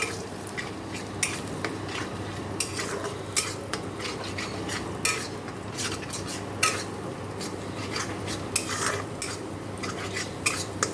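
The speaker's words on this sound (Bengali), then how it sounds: "দেখো পেঁয়াজ লঙ্কা ভেজে ডিম দিয়ে দিয়েছি" Eggs fry with onion and chili in a pan under a low steady hiss while a utensil scrapes and taps against the pan in irregular strokes, close by, with no talking.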